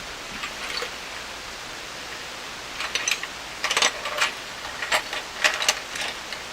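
Steady broadband static hiss from a Hammarlund SP-600 communications receiver fills the whole stretch, with scattered crackles and clicks growing busier toward the end.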